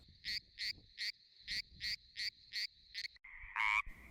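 Rhythmic, high-pitched frog croaking pulses repeat rapidly in a steady pattern, sped up two times, ending with a longer, louder call.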